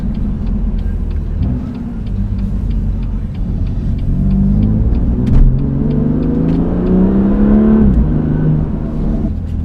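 A BMW M2 Competition with a dual-clutch transmission accelerates hard from inside the cabin, its engine note climbing steadily with a loud, continuous drone and a brief dip at each quick gear change.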